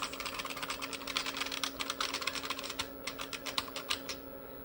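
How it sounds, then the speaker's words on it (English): Rapid, uneven keyboard clatter as keys on an IBM Portable PC (Model 5155) keyboard are mashed repeatedly, a close, busy flurry of plastic clicks over a low steady hum. "Mash the keyboard."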